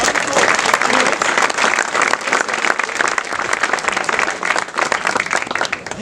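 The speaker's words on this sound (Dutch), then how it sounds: "nog een keer een applaus voor deze man." Dense crowd applause for a man on stage at a talent show opening, steady and loud for the whole stretch, a continuous wash of many hands clapping close by with no pauses.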